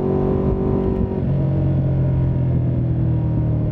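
A Ducati motorcycle engine runs steadily at close range, a low throbbing idle whose pitch drops slightly partway through, with no voices.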